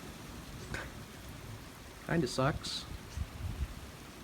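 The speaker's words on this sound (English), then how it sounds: "Well, now it's raining." Steady rain falls during a winter thaw, a soft continuous patter in the background while someone speaks briefly over it.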